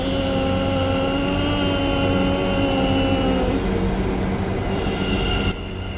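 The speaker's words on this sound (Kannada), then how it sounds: "ಬಸ್ ಅಲ್ಲ ಬ್ರೋ, ಮೆಟ್ರೋ ಹಿಂಗೆ ಬರ್ತೈತಿ" A metro train pulls into the station with a loud, steady rumble and a sustained tonal whine from wheels and motors, holding constant before dropping slightly at the end.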